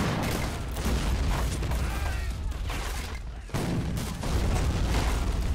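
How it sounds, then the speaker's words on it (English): Howitzer shells land in a battle set in an 18th-century forest outpost in a video game, a dense, loud wash of booms and gunfire with repeated heavy surges throughout. "Howitzers are landing nearby."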